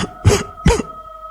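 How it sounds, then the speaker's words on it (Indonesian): Two close, sharp coughs come in quick succession from one person, each a short loud burst, followed by quiet. "Terdengar suara batuk."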